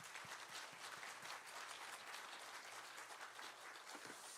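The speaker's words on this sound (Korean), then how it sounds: "힘차게" A church congregation at a Sunday worship service claps in welcome for a visiting preacher, a soft, distant, steady patter of many hands that continues evenly throughout.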